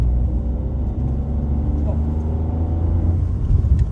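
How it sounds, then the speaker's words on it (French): A Toyota Aygo X-Play 1.0 VVT-i accelerates, heard from inside as a steady, loud engine drone and road rumble that swells slightly toward the end. "On va accélérer un petit peu."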